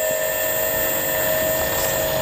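A small propeller plane's engine drones loudly and steadily as it takes off, a continuous close buzzing hum with no talking.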